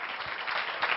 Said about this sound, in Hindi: ताली बजाएंगे अपने परमेश्वर के लिए